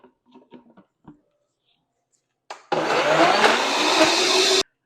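Countertop blender blending a pink pitaya smoothie of frozen fruit and homemade coconut milk, starting after a few soft handling knocks and running loud and steady for about two seconds before cutting off abruptly.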